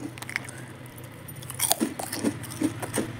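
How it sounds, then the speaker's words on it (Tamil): Fried cassava appalam crisps are crushed by hand, giving a dense run of dry, brittle crackles and snaps, loud and close, that grow busier halfway through; no talking. "அப்பளத்தை எடுத்து நொறுக்கி காமிக்கிறேன் பாருங்கள்"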